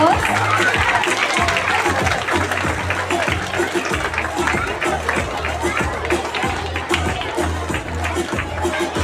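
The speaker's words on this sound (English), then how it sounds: "Kindly give them a huge round of applause." A school audience claps for a Teachers Day celebration performance at a New Delhi senior secondary school, with steady crowd clapping over background chatter and voices for the whole stretch.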